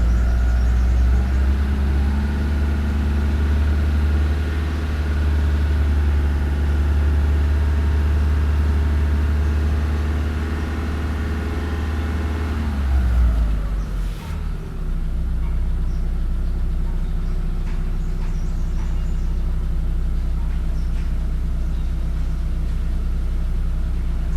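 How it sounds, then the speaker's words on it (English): A Mitsubishi GDI petrol engine runs loud and steady under diagnosis, its tone climbing as the revs are raised, then abruptly dropping and settling into a rougher, lower idle partway through. "Let's raise the RPM and see what happens here."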